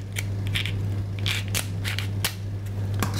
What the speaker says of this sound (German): nimmt man eine Schere und schneidet den Hummer auf